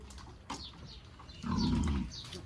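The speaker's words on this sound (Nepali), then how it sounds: "फेरि सुँगुर पनि कराउनु थाल्यो है" A pig lets out one loud, drawn-out squeal lasting about half a second, close by, against a quiet farmyard background.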